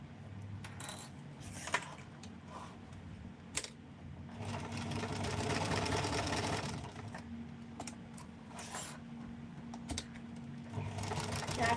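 Sewing machine stitching velvet, a steady mechanical whirr in bursts with sharp clicks and taps between runs, quiet and close, no talk.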